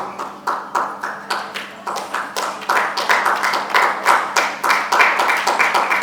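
Audience at a Mother's Day event for a mothers' milk bank claps in rhythmic, evenly spaced bursts, a near room-filling applause that builds gradually in loudness.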